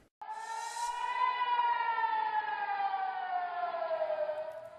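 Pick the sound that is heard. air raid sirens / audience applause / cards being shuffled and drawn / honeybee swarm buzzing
air raid sirens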